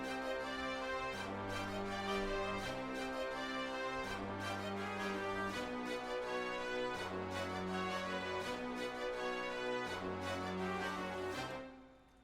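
Glo hip-hop beat layers brass, booming 808 bass and spiccato strings over steady drums, a dense loud loop running for about twelve seconds before a quick fade, with no talk.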